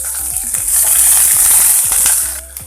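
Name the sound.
green chillies and onion frying with mustard seeds in coconut oil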